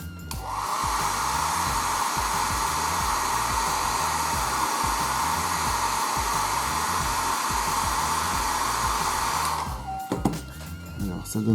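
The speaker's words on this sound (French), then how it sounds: "Alors, un petit coup de sèche-cheveux." A hair dryer blows steadily at close range on a 1/72 Hasegawa B-24D Liberator scale model kit, a strong, constant whoosh for about ten seconds, then cuts off, followed by a few soft handling knocks.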